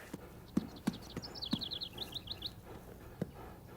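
Scattered hoof thumps from a horse moving slowly on the ground, a few sharp separate steps close by, with a bird chirping a quick repeated phrase in the background.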